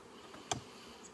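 Honey bees buzz faintly around an open hive during an inspection, a low, steady drone with one brief sharp tick partway through and no talking.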